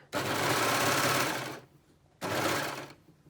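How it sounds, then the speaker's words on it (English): An overlock sewing machine runs in two close, loud bursts as it stitches along a straight fabric edge, with a short pause between them and no talking. "Okay, so first let's overlock the straight."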